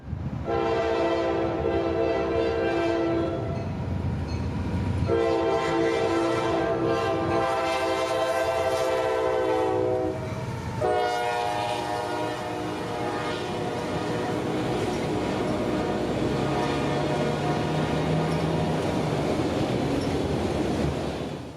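A northbound autorack freight train passes at Folkston, Georgia, loud and close. Its horn blows in long, repeated blasts over the rumble and rolling clatter of the cars.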